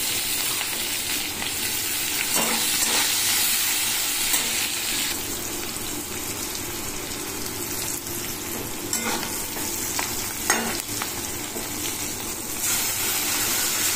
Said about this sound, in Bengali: এবার ক্যাপসিকামগুলো দিয়ে ভেজে নেবো আগে